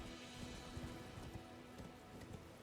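Horse hooves pounding in a rapid galloping rhythm while riding on horseback in Elden Ring, steady and close under continuous game ambience.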